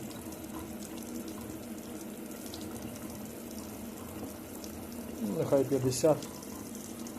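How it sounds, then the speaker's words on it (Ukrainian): Water runs through the tap of an SDR-G19TC instantaneous electric water heater, a steady low rush. Near the end a brief burst of splashing and clatter rises over the flow, and a voice speaks briefly. "і роблю новий проток води"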